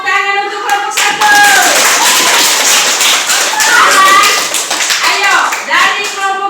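A classroom group claps together during an Indonesian school discussion session, with loud, close, continuous hand clapping while voices, including a child's, talk over it.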